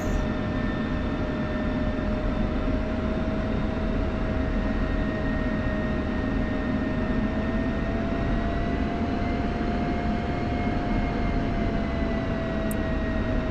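An aircraft in a flight simulator game taxis back to park at night, its jet engine producing a steady, constant drone with a high whine running through it, unbroken from start to finish.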